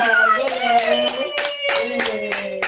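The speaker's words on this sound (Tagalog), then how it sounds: "Palakpak!" Rhythmic claps cheering a toddler taking first steps without holding on, a handful of sharp beats spaced about half a second apart over a sung, tuneful voice and steady background music.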